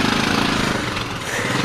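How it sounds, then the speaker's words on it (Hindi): A Royal Enfield Himalayan motorcycle engine labors loudly and up close as the bike climbs temple steps amid a Janmashtami crowd, a rough, rapid, thumping drone throughout. "हिमालयन चढ़ती हुई और फिर हमारी एवेंजर चढ़ेगी"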